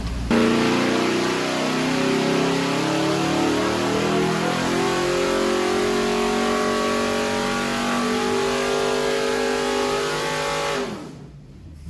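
A car engine revs up on a dynamometer during a baseline run with an oil pan pressure relief valve fitted, a loud steady mid-pitched drone rising gradually for about ten seconds before cutting off abruptly.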